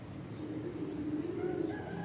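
Domestic racing pigeons coo softly on a home loft, a low throaty warble repeating close by under a faint background hum, with no speech.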